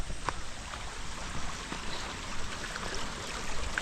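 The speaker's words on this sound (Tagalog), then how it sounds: "Magpapatubig tayo ng pipino." Steady trickling, splashing water poured onto cucumber plants in a garden, a continuous close wash of sound with no talking.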